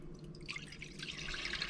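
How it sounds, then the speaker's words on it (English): White wine granita mixture pours steadily into a loaf pan, a continuous close trickle and splash of liquid that swells slightly toward the end, with no talking. "I'm going to go ahead and pour this into my loaf pan."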